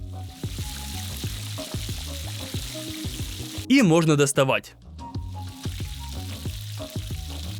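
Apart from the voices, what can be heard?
giant potato wedges deep-frying in a fryer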